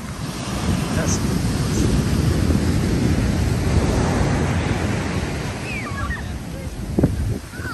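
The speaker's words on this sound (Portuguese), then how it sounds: "Só que o mar tá agitado," Rough sea at Toque Toque Grande beach on the north coast of São Paulo, with continuous crashing surf and wind buffeting the microphone; a faint voice is briefly heard near the end.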